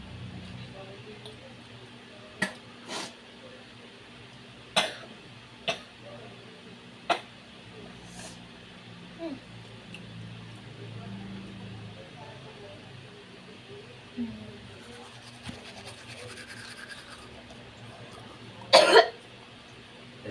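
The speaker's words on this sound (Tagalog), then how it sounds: "yung tunog na ubo ni ate" Several sharp, isolated coughs from a woman break up a quiet room, spaced every few seconds, ending in a louder double cough.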